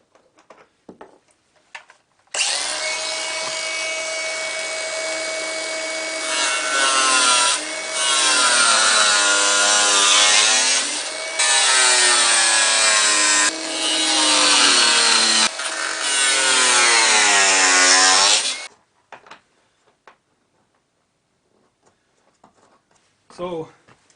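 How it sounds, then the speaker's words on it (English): Overlong bolts on a Festool TS55 track hard case being cut off, a loud continuous grinding and sawing whine lasting about sixteen seconds with brief dips, ending abruptly, followed by faint handling noises. "These bolts are a little long, so I'm going to cut them off."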